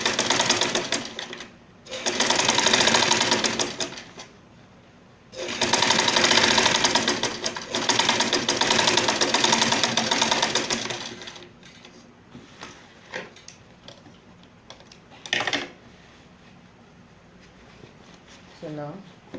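Sewing machine stitching the lining of a six-piece bustier blouse, running close and steady in long bursts with short pauses between them, then stopping for quieter handling noises and a brief final whir near the end.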